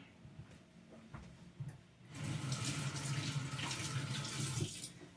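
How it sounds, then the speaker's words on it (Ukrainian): Tap water runs steadily into a sink as hands are washed beneath it, the broad splashing rush starting abruptly after two seconds of quiet room noise and continuing to the end, fairly close. "маю мити руки"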